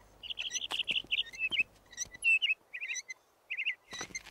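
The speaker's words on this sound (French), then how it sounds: "J'ignorais que tu étais un oiseau chanteur" A small bird sings a series of bright, high chirps and warbling trills, fairly close and clear, with short pauses between phrases and no talking.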